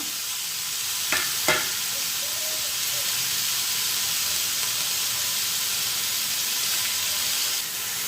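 Onion frying in a kadhai, a steady hiss of hot oil close up with a couple of sharp clinks early on and no talk.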